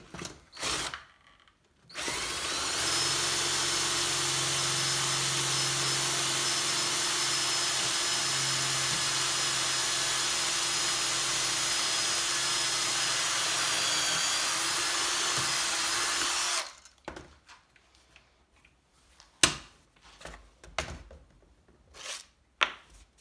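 A power drill bores pocket holes into wood with a standard 8 mm bit, one long, steady, loud whir of about fifteen seconds, followed by quieter scattered workshop knocks and handling.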